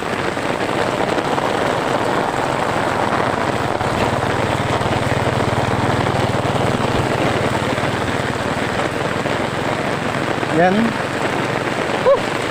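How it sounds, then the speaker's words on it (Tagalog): Steady, dense rainfall hisses continuously throughout, with a low engine-like hum underneath and a brief voice near the end. "Ulan guys oh."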